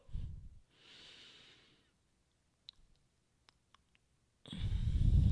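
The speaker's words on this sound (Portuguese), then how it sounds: "Então, inspirou." A person breathing in during a counting breathing exercise: a hard nasal intake, a softer breath, a quiet pause with a few small clicks, then another strong inhale close to the microphone.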